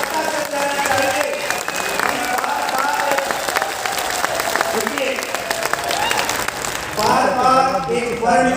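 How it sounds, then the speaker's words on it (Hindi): Audience applause at an RCM World academy program in Bhilwara, a dense, steady clapping that fills the whole stretch and swells near the end, with a voice over a sound system talking above it. "एक बार जोरदार क्लैपिंग के लिए क्या तो ताली बजाएंगे"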